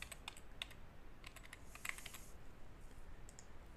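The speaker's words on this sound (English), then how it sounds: "And here I will type in peripherals." Typing on a computer keyboard: quiet, irregular key clicks come in short bursts, soft and close, with no talking.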